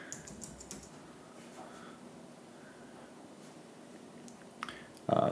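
Password typed on a computer keyboard: a short run of quiet, close key clicks at the start and a few isolated taps later over faint room noise, ending with a louder burst.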